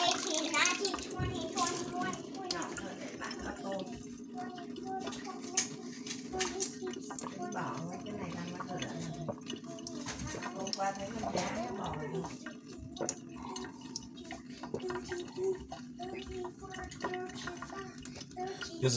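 Kangen water machine dispensing alkaline water into a large cup, a steady trickling pour running throughout, with a person talking over it.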